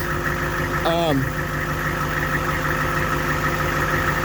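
HMMWV engine idling steadily during hydraulic system bleeding, a constant low drone with a brief rising whine near the start as the steering is worked, no voice heard.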